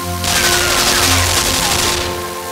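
Sustained rapid burst of machine-gun fire in the game Limbo, loud and dense for about two seconds, with no talk over it.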